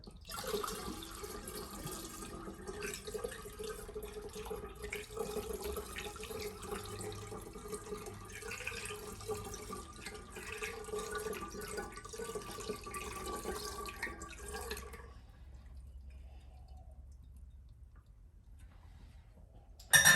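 Limoncello pours steadily through a funnel for about fifteen seconds, a close, trickling flow that then stops, leaving near silence.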